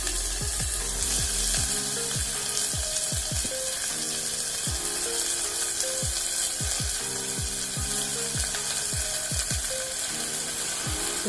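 Chopped onion and tomato with green chili, cloves, cinnamon, pepper and garam masala sizzle steadily in a pan while a utensil scrapes and stirs in repeated strokes, loud and close with no talking.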